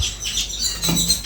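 Brief high chirps and tweets from birds, fairly close and continuous for a moment, with no talking.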